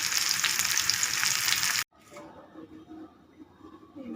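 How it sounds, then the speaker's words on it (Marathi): Onion frying in a pan for a fresh rajma masala curry makes a loud dense sizzle that cuts off abruptly, leaving faint kitchen clatter and a softer hiss afterward. "कांदा परतायला टाकला"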